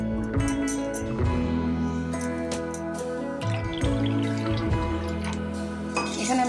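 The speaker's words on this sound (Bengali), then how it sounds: "এখানে আমি 1 কাপ মতন জল অ্যাড করে দিলাম।" About a cup of water poured into a bowl of grape juice with dissolved cornflour for a grape cake batter, a steady close splashing pour with light trickling, no talking.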